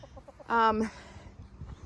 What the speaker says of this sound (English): This is our head chicken, Patricia.